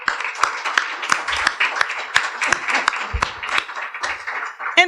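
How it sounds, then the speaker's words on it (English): Audience applause at a Women's History Month event honoring Black women leaders, a steady burst of clapping with scattered sharper claps and faint voices underneath, moderately loud throughout. "So a round of applause for Glenda Carr."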